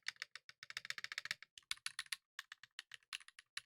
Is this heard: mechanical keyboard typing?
yes